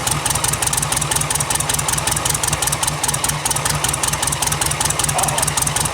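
An old Volkswagen buggy engine idles close by, a steady, loud, rapid air-cooled chug with an even pulsing beat and a rattly edge, running alone without talk.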